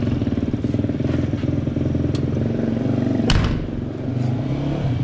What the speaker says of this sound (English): Guess the boy's gonna go ride his dirt bike.